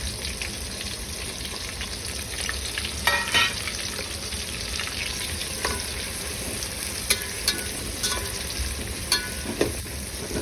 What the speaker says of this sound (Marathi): आता आपण यात टाकणार आहोत कांदे आणि कांदे चांगले आपण ब्राऊन होईपर्यंत परतून घ्यायचे.